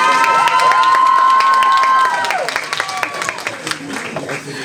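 A crowd cheers and applauds loudly for a contestant at the Miss Yonne 2024 beauty pageant, with shouts over a sustained tone at first, then clapping trailing off as a voice begins.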